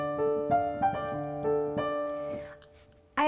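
A piano plays the introduction to a song, a handful of separate struck notes and chords in an uneven rhythm, fairly quiet and close, ringing briefly between attacks.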